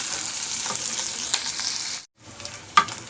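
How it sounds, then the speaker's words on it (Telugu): Onions sizzle and crackle steadily in a hot pan while a coconut milk dish is being cooked, with a brief pause before the frying resumes, close and fairly loud with no talking. "ఆనియన్స్ ఫ్రై అయిపోయాయి కదా ఇప్పుడు ఇందులో మనం కొద్దిగా అల్లం వెల్లి పేస్ట్ వేస్తాం నేను కూడా బాగా ఫ్రై చేస్తాను"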